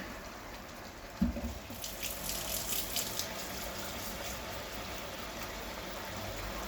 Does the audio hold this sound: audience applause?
no